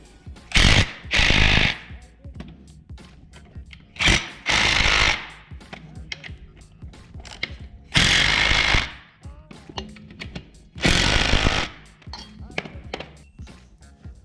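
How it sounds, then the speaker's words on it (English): Power tool driving motorcycle rearset crossbar bolts, heard as loud, close bursts of rapid hammering buzz, about five spaced runs of one to two seconds each, with quieter clinks and handling noise between them. "Last, tighten the crossbar bolts."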